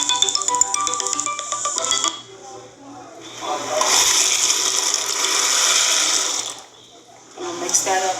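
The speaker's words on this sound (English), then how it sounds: "excuse that background noise, the phone ringing" A phone rings in a home kitchen during cooking of rasta pasta with jerk chicken alfredo, with repeated tonal ring bursts at the start and near the end, plus a rushing, noisy stretch in between.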